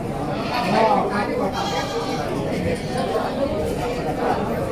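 Goats bleat at Karangpucung goat market in Java, several overlapping calls near and loud amid busy crowd chatter and talking voices throughout.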